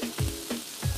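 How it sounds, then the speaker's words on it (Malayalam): Four chopped onions hit butter in a hot pan for paneer mutter masala and sizzle. Sharp bursts of frying crackle over a continuous hiss, close and fairly loud, with no voices. "നമ്മൾ 4 സവാള കൊത്തി അരിഞ്ഞു വെച്ചതാണ്. അത് അതിലോട്ട് ഇട്ട് കൊടുക്കുക, വഴന്ന് വരട്ടെ."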